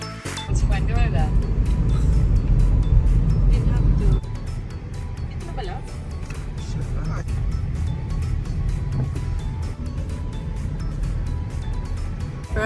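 Car road noise from inside a vehicle heading to Fuengirola in Spain, following another car, with a steady low engine and tyre rumble that drops in level partway through and continues under music or talk.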